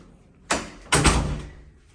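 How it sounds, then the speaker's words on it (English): A sliding door near a building elevator opens or closes with two distinct thumps, a short knock followed by a louder, longer rumbling slide that fades out. "It's a nice sliding door."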